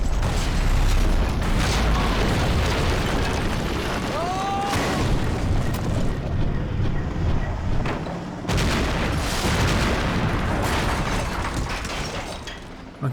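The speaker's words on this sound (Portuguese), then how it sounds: "Caraca, uma bazuca." A bazooka fires and explodes in Max Payne 3 during a gunfight, heavy booms and mechanical clanks over dense continuous battle noise, with bursts at intervals and a voice heard briefly.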